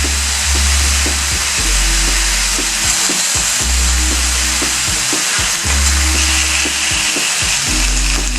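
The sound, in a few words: bison burgers frying on a cast iron griddle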